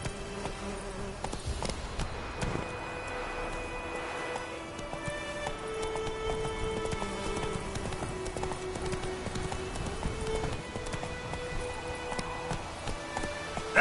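Roach the horse gallops in The Witcher 3 with a steady, fairly quiet run of hoofbeats under buzzing, insect-like game ambience and faint tonal music.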